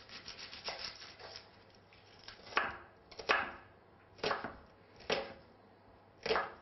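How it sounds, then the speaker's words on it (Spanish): Onions are peeled by hand, with soft rubbing and scraping of dry skins. A cluster of quick rustles is followed by five louder, evenly spaced strokes, close and alone. "vamos a comenzar pelando las cebollas"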